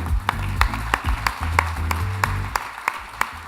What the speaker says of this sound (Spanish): Un aplauso grande